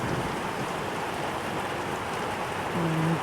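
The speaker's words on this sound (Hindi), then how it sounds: "मूसलाधार बारिश हो रही है और बिजली भी बहुत तेज़ कड़क रही है।" Heavy rain pours down in Munsyari, Uttarakhand, in a steady, dense hiss, with a short low tonal hum near the end; no distinct thunderclap stands out.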